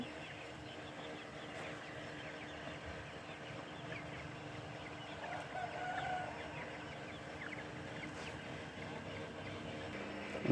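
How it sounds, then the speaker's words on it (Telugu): Faint clucking of a hen with six chicks amid quiet outdoor ambience, with soft peeping and scattered background noise throughout. "ఆరుపిల్లలు ఉన్నాయి కోడి దగ్గర"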